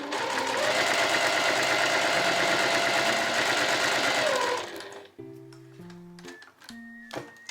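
A sewing machine runs steadily for about four and a half seconds, stitching long gathering rows on dress fabric, then stops, leaving quiet clicks and handling sounds.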